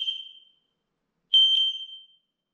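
A high electronic beep from an X-Sense wireless smoke alarm fades out, then after a pause two more sharp beeps sound close by, loud and clear.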